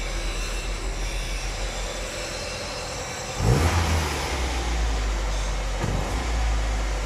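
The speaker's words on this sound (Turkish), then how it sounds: "Bir de şöyle gaz verelim." Tofaş Şahin car converted from fuel injection to a carburetor, leaking fuel and hesitating on throttle, idles roughly then revs sharply once when the throttle is blipped, settling back into a loud, close, steady engine drone.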